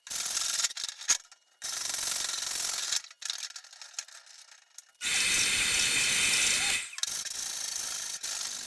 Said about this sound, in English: it's not the easiest thing to sand with that long board. That's fiberglass is hard to sand, even though I have 36 grit on there